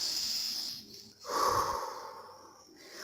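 A woman takes one deep, audible breath, drawing air sharply in through the nose and then letting it out in a long, slow exhale. It is close and unaccompanied.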